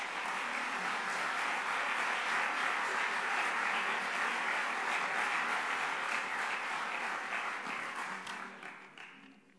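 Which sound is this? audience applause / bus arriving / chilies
audience applause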